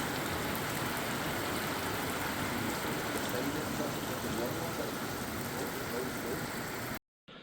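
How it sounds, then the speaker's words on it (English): Steady heavy rain falling outdoors at a lochside boatyard in Scotland, a dense continuous hiss and patter that stays constant and close throughout before cutting off abruptly near the end. "Listen to that rain."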